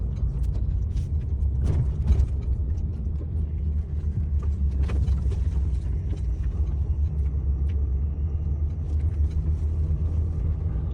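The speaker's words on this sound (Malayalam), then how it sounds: "ഇവിടെ ഒരു ഗേറ്റ് വരുന്നുണ്ട് കേട്ടോ. ഈ ഗേറ്റ് ഓപ്പൺ ആയി." An automatic gate opens at a truck parking area, a steady mechanical rumble with grinding, ratcheting clicks and a few sharper clanks running throughout, close and fairly loud.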